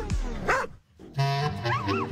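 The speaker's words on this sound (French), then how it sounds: "Daniel, elle, adore se balader avec Mango, son jeune chien plein d'énergie." A small, young, energetic dog yips and barks in short excited bursts, close by, with a brief pause between two clusters of high whining yelps.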